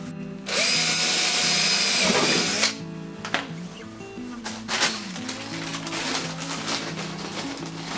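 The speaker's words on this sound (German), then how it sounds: "Da soll ich noch bohren." A cordless power drill bores into a Gardena leaf collector, whining steadily and loudly for about two seconds, then stopping and restarting in short bursts with clicks and rattles, close by and without talk.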